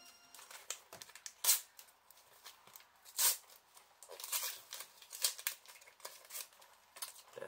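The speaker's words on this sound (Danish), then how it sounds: "lad os åbne nogle klistermærker" Football sticker packets are torn open and handled, producing scattered crisp tearing and crinkling bursts with a few louder rips, close by, with quiet gaps between them and no talk.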